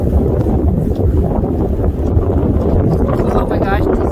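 Strong wind roars steadily across a snowy Maryland winter driveway, buffeting the microphone in a loud, unbroken rush with a brief voice faintly under it.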